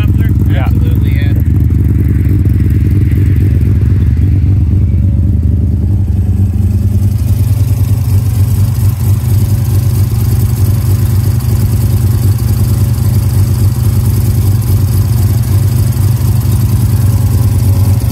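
A motorcycle engine fitted with a second muffler revs hard at first and then settles into a loud, steady, close rumble for the rest of the stretch, with a voice heard briefly over it.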